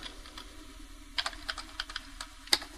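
Quick, light typing on a computer keyboard while writing C++ code, soft irregular clicks that build into sharper keystrokes toward the end, close and quiet with no talk over them.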